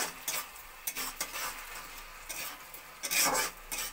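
Thick tomato chutney stirred in a pan right after sugar goes in, a spoon scraping and rubbing in uneven strokes with soft sizzling underneath, close and moderately quiet, with no voices.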